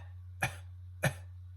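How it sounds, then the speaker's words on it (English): Two light, short baby-like coughs from a person, evenly spaced and close to the microphone, over a steady low hum. "do a light little kind of a baby cough."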